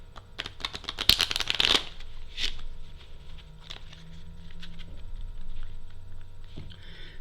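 A close, crisp riffle of playing cards being shuffled, a rapid burst of flicking that ends in a snap, followed by quieter handling.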